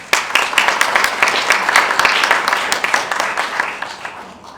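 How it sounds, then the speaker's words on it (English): A forum audience gives a loud, dense round of applause welcoming former UNESCO Director-General Bokova to the stage; the many overlapping claps are sustained, then thin out and fade toward the end. "Please welcome her with a big round of applause."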